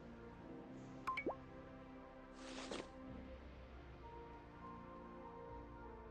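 Watering in the video game No One Lives in Heaven gives a few quiet, brief drips and a soft splash over a low, calm background.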